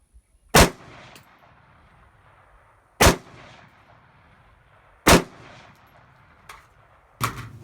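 Four loud, sharp rifle shots fired from a rifle carrying a Bushnell TRS-25 red dot sight, spaced roughly two seconds apart outdoors, each followed by a brief echoing tail with no talking.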